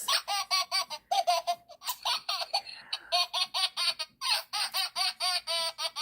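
A small toy plays a recorded burst of high, giggly laughter, bubbly and repetitive, continuing in quick pulses for several seconds.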